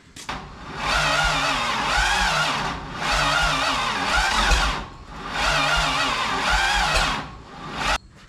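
A Toyota Land Cruiser FJ40 engine cranking on a weak starter with the choke closed, three long sluggish whirring bursts that spin slowly without catching, separated by short pauses.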